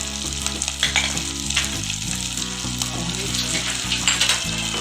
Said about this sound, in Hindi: तो भी अच्छे से भून लूँगी मसाले में।